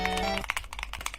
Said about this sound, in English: How my keyboard sounds